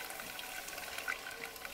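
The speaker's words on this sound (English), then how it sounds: "I'm just draining the hop bag." Wort drains from a hop bag during a homebrew day for a West Coast pale ale, a soft steady trickling and splashing of liquid, faint and continuous with no voices.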